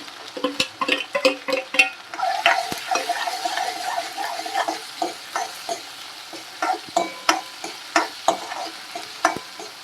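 Onions frying in a pan for Gujarati dal fry, with tomatoes just added, sizzling steadily under a rapid series of sharp scraping stirs and clinks, loud and close with no talk.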